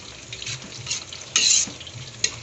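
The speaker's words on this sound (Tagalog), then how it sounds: "pinapakuluan natin sa may suka" Bagoong boiling in vinegar in a pan: close sizzling and bubbling with bursts of stirring and scraping, one louder frying flare midway, no voices.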